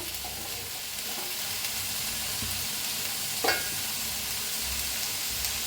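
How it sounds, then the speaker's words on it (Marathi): Spices dry-roast in a pan while being prepared for chole: a continuous, fairly loud sizzle with steady stirring and a brief scrape partway through. "छान असं भाजून घेऊया छान मऊ भाजलं का नाही"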